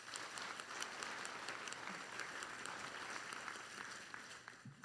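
Audience applause at a public report event on advanced industry in the southwest region of Korea, steady dense clapping from a large crowd that fills the whole stretch without pause.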